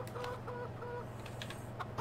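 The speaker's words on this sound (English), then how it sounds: "Where's that rooster? Rooster! You need to get to work. Quit pecking around and go peck around." Chickens and a rooster clucking in the Farming Simulator 2015 farm game, several short clucks spread across a steady low background hum, moderately quiet with no talk.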